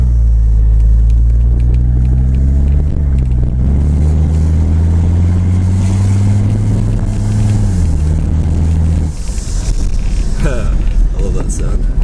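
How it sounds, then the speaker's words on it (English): A 1982 Mercedes 300TD running a straight pipe drives past with a loud diesel rumble and a rising turbo whistle that climbs, holds, then drops away, and a voice can be heard under the engine. "You can hear the turbo really nice."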